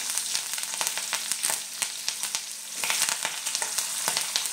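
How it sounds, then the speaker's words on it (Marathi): Green chillies and curry leaves hit hot oil in a pan, giving a close, lively sizzle full of rapid popping crackles and spits that carry on without any talking. "आता आपल्याला ह्याच्यामध्ये हिरव्या मिरच्या घालून घ्यायचं आहे, कढीपत्ता,"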